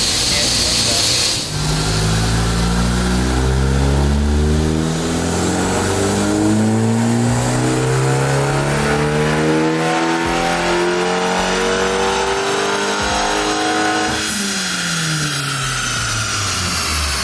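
A Dodge Dart with a MultiAir big turbo engine on a dyno run, loud and close, revving up through the gears in a long rising pull with turbo hiss and whoosh, then the revs drop off near the end.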